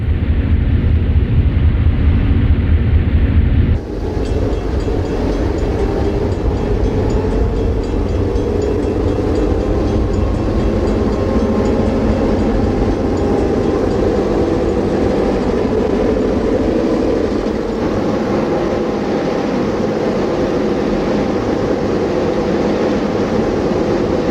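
An Illinois Central Railroad passenger train, its lead engine decorated with a wreath, rolls past with a loud, steady low rumble and clatter that carries on throughout after an abrupt start.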